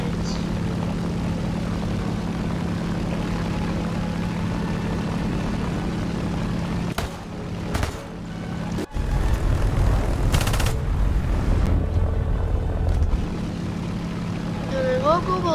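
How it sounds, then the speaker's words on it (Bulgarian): Enemy propeller airplanes in a video game drone steadily for several seconds, then sharp bursts and loud gunfire-like crackles break in before the engine hum returns; a voice talks over the game audio. "О, не, аз забравих, че има вражески самолети."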